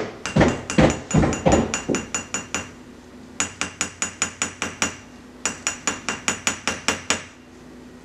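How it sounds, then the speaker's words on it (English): Sharp, close taps against the edge of a shower steamer mold, a fast run of clinking knocks followed by two steadier rhythmic series of about ten taps each, with no voices. "And then I'm just going to tap the edge of it."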